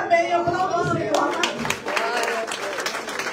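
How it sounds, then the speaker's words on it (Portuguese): A church congregation claps along after a call to praise the Lord. Brisk rhythmic clapping builds over sustained singing or voices, moderately loud and close. "Aplauda o Senhor."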